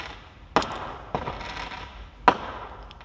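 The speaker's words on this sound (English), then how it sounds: "Someone playing firework outside." Fireworks go off outside at a distance, three sharp bangs spaced irregularly over a few seconds with faint crackle between them in an otherwise quiet indoor space.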